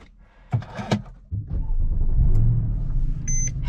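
A Mercedes-AMG car is push-button started. A couple of sharp knocks are followed by the engine catching and settling into a loud, steady, close rumble.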